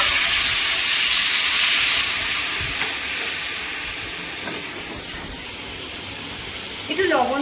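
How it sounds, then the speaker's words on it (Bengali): Boiled hog plums poured into hot oil with a reddened mustard-seed tempering send up a loud, broad hiss that slowly fades, with a brief clatter near the end. "ফোড়নটা লাল লাল হয়ে গেছে, এবার আমি আমড়াটা ঢেলে দেবো"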